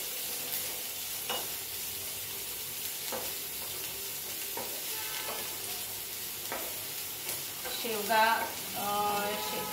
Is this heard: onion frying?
yes